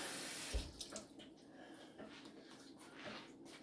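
Tap water runs into a jar for pressure-cooker pasta, a soft steady splashing flow after a brief clunk, faint and close with no talk over it.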